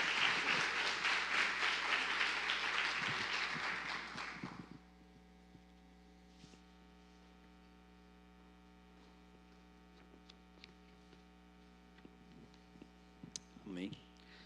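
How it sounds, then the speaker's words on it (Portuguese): A church congregation applauds during a worship service, a dense, loud wash of clapping for about five seconds that cuts off abruptly, leaving a steady mains hum with faint scattered room noise and a brief voice near the end. "Aplaudir o Senhor por isso, em nome de Jesus"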